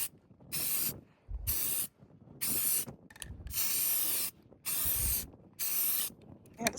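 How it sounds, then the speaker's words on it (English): Rust-Oleum spray paint can hissing out paint in six bursts of one to two seconds each, separated by short pauses, close and loud, with faint clatter between sprays. "Let's start spray painting."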